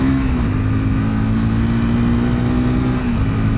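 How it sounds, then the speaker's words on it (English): A motorcycle engine drones loud and close at a steady pitch, dipping briefly near the end as it is downshifted with a throttle blip to match revs. "pull in the clutch, second you have to downshift, third blip the throttle, and fourth leave the clutch"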